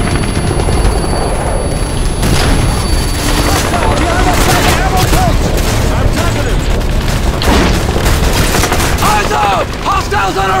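Dense gunfire and explosions in the 2009 video game Call of Duty: Modern Warfare 2, with rapid bursts, booms and a helicopter drone, all loud and continuous while voices shout over the battle.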